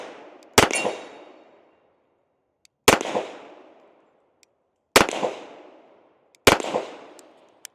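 Four loud, sharp shots from a Sig 1911 X Stainless pistol, spaced about two seconds apart, each with a brief ringing decay and silence between, no talking.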